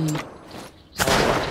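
Gunfire in the battle royale game Survivor Royale, a burst of shots then a loud sustained volley after a short pause, close and harsh.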